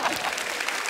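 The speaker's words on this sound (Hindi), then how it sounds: "जोरदार तालियां हो जाए यार।" Studio audience applause on a comedy talk show, dense steady clapping filling a brief burst, loud and close.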